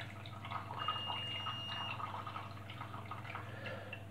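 Water trickles and drips steadily into coco coir while hydroponic Chantenay Royal carrot seeds are watered under a grow light, a continuous soft wet patter close by with a low background hum.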